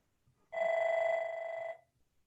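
A single telephone ring, a clear steady electronic tone lasting about a second, sounds alone against faint background during a video meeting.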